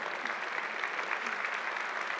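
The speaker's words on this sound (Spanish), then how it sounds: "Tienes que aplaudir, lo dice inteligencia artificial." A short burst of steady applause, like a small crowd clapping together, fairly faint and continuous until it cuts off.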